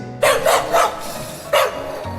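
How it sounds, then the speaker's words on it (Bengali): A desi street dog barks three times in quick succession, then once more after a short pause, loud and close against a low background hum. "দেশি কুকুরগুলোও গাড়ির শব্দে ঘুম ভেঙে যাওয়াতে খাপ্পা হয়ে ঘেউ ঘেউ করে ধমকের পর ধমক দিচ্ছে"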